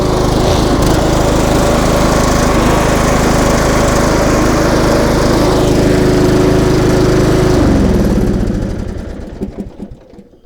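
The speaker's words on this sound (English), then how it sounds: "So yeah, she'll crank up by the key and run fine." A John Deere Sabre lawn tractor's small engine runs steadily at a loud, even drone, then cuts off near the end and winds down into silence.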